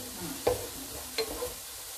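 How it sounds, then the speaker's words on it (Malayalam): Shallots are stirred and sautéed in a pan for beef poriyal, a soft low sizzle broken by two or three quick spoon scrapes. "ഈ ചെറുള്ളി നന്നായി വഴറ്റണം"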